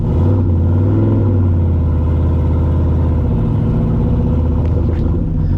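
Budget turbocharged small-block C3 Corvette, cold and rough-running, driving off at night with a deep, loud, lumpy rumble that swells and settles and stays strong throughout; nothing else is heard.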